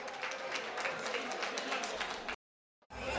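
Applause from the audience at a village association evening gathering, a dense burst of clapping that runs steadily for over two seconds, cuts off abruptly, and resumes briefly after a short silence.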